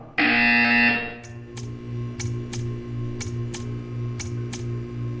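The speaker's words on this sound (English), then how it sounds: "You will hear a buzzer. When you hear the buzzer, stare at the art." A loud, harsh electronic buzzer sounds for about a second in a Portal 2 test chamber, then cuts off, leaving a steady mechanical hum with regular clicking ticks.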